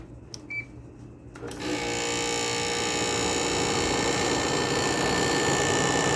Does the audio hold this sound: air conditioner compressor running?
yes